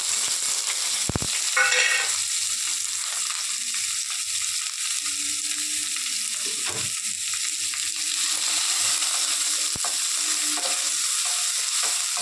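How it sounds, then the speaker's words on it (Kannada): Chopped onion frying in hot oil, a steady broad sizzle running throughout with a few faint utensil clicks and scrapes, close and moderately loud with no talking. "ನೋಡಿ, ಕಟ್ ಮಾಡಿ ಇಟ್ಕೊಂಡಿದ್ದೆ, ಅದನ್ನು ಹಾಕ್ತೀನಿ"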